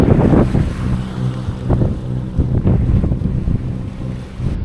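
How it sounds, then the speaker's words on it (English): Loud, steady wind buffeting the microphone at an anchorage in Kalkan, Turkey, with a constant low rumble and gusts swelling and easing throughout, no voices. "Really windy"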